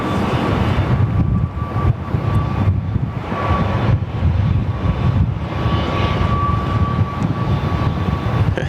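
A line of aircraft taxiing along taxiway Charlie at Sydney Airport produces a constant jet engine roar with a thin whining tone on top, loud and sustained with slight pulsing swells.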